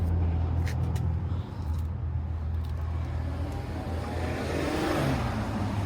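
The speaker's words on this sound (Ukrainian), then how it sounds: "хто це там та газує?" A farm machine engine revs and holds a steady, loud drone close by, with a low rumble throughout and no voices over it.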